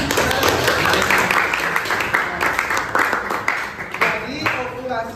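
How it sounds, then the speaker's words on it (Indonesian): A classroom group claps together, a dense burst of applause that thins out into scattered claps, with voices mixed in underneath. "Tepuk tangan dulu."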